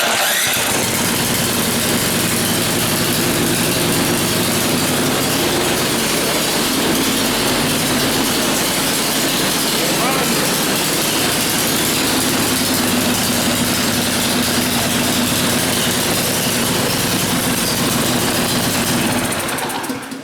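A Powersmart snow blower engine fires up and settles into a loud, steady idle with a continuous low drone, holding close and strong for the full stretch before cutting off at the end.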